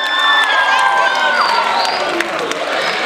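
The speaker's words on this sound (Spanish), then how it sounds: "Un aplauso." Crowd applause and cheering at a comic convention in Guadalajara greeting a cosplay contest judge, a dense loud wash of clapping and shouts with a voice briefly audible.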